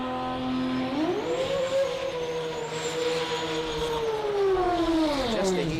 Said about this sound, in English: Just to hear that screaming RB one more time.